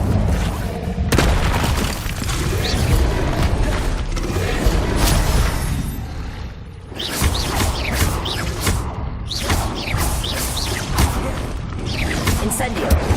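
Fire spell explosions in the Hogwarts Legacy video game, a dense run of booming blasts and crackling impacts layered over game music and effects, loud and continuous with a short lull midway.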